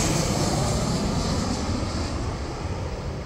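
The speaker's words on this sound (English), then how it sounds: "these airplanes fly right over you" Airplanes pass low overhead at LAX airport, a loud, continuous jet roar that fills the air from start to end, with no voices over it.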